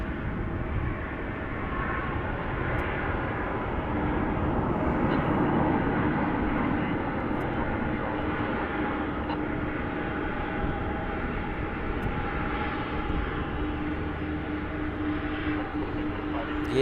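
A Boeing 757 jet at DFW International Airport roars in a continuous, fairly distant engine rumble that stays steady and loud throughout, with no talk over it.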